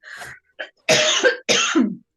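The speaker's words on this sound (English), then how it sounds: "I'm just going to cough" A person coughs several times in short bursts, close by, with brief pauses between, the later coughs louder and harsher.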